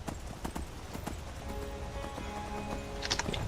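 Horse hooves clip-clop on the ground in the video game Skyrim, a string of close, uneven footfalls with a faint tonal ambience behind, and no voices.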